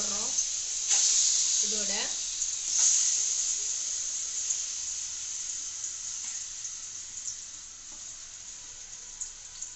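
Banana pieces dropped into a hot pan with oil, sizzling in a steady bright hiss that swells as they land and then settles, with a person speaking over it.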